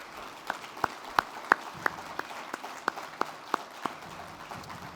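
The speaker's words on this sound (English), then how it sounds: "give you a big round of applause, the National Center staff, for everything that you've done to help facilitate this great event" Light, sparse clapping from a small summit audience honoring the DOE National Center staff at the National Tribal Energy Summit, a dozen or so distinct claps spaced irregularly over a quiet room background.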